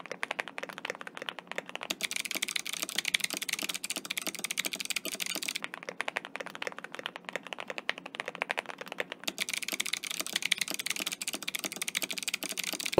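A clicky mechanical keyboard typed on continuously, fast crisp clacking keystrokes in a dense rapid stream with short pauses, close and alone.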